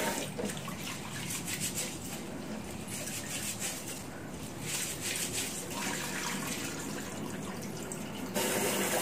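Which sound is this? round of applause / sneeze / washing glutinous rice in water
washing glutinous rice in water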